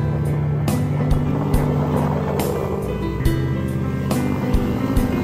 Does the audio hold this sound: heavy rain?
no